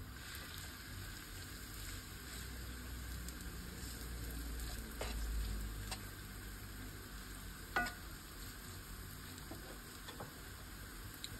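Onions fry in heated oil in a pan, a faint, even sizzle running throughout with a few light clicks of stirring, no voices over it.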